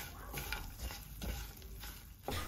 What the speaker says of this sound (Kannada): 2 ಸ್ಪೂನ್ ಧನಿಯಾ ಕಾಳು, 1/2 ಸ್ಪೂನ್ ಜೀರಿಗೆ, 2 ಎಸಳು ಕರಿಬೇವು, 8 ಎಸಳು ಬೆಳ್ಳುಳ್ಳಿ ಇಷ್ಟನ್ನು ಸ್ವಲ್ಪ ಫ್ರೈ ಮಾಡಿಕೊಳ್ಳಿ